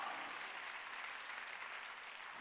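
Steady, dense applause from a church congregation during a Korean sermon, continuous and fairly even throughout, with no voice over it.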